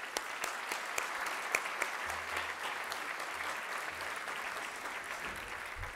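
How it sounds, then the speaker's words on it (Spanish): Audience applause at a processional bands gathering in Cabeza del Buey, a steady crowd clapping that runs throughout at moderate distance, with a few sharper claps standing out. "le damos ese fuerte aplauso también por esa iniciativa que tuvo"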